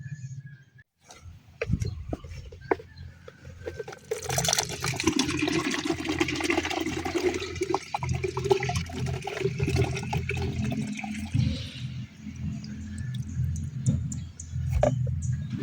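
Coconut water gushes from a coconut pierced with a coconut hook and pours into a pitcher, a continuous splashing, trickling flow that runs steadily for most of the stretch with a few faint knocks and no talk.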